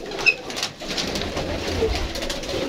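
Pigeons coo softly amid a low murmur of background noise, a few muffled calls over a steady hum.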